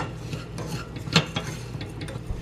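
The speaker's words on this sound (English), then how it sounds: "we're just going to basically toast up the crumbs" Breadcrumbs toasting in an oil and butter mixture in a pan for a baked mac and cheese topping, with soft scraping and stirring against the pan, quiet and close, with no talking.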